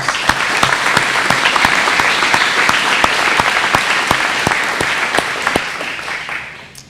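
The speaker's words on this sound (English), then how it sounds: "Let's give them a round of applause." Sustained applause from a crowd, dense steady clapping with sharp individual claps popping out, fading off at the very end.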